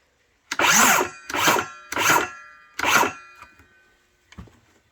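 A DeWalt 7 1/4 inch rear handle circular saw spins up in four short, loud trigger bursts close by, each winding down briefly before the next, with no talking.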